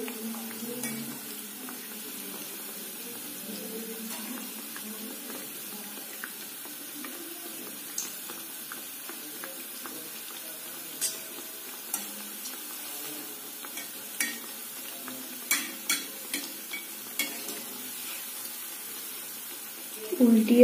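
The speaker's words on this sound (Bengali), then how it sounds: "উল্টিয়ে পাল্টিয়ে ভালো করে ভাজতে হবে, যাতে দুটো সাইডেই ভালো করে লাল লাল করে ভাজা হয়" Chhana jilapi fry in oil as they are flipped over, giving a quiet continuous sizzle that builds toward the end into a string of small clicks and taps from the turning utensil.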